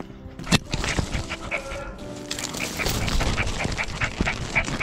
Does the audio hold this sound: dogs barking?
yes